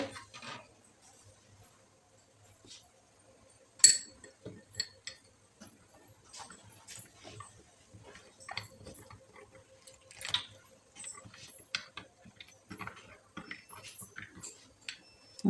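A spoon clinks and taps against a small bowl while turmeric, chili powder and salt are stirred into a paste with water: irregular light ticks and clinks, close and quiet, with no voices.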